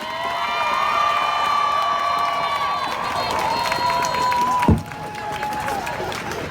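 A large outdoor crowd at a Black Lives Matter Pride rally concert in Times Square cheers and screams continuously, loud and sustained throughout, with a sharp peak partway through.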